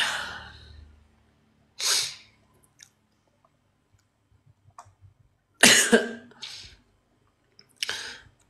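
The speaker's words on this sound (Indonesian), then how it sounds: "saya agak batuk" Several short, sharp coughs in separate bursts with quiet pauses between, close to the microphone.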